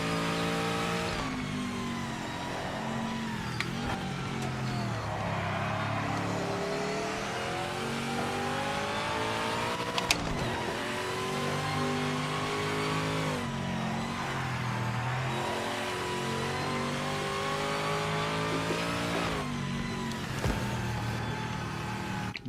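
A Ford Capri race car in Project Motor Racing revs hard and continuously, its engine note rising and falling through repeated gear changes as it climbs a mountain circuit.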